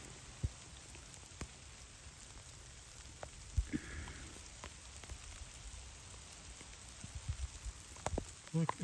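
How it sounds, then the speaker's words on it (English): Tiny bits of hail fall outdoors in a military reserve near Boise, a faint, steady patter with scattered sharper ticks as pellets strike nearby surfaces. "bam, getting hailed on. Teeny tiny little bits of hail."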